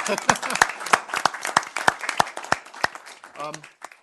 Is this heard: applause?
yes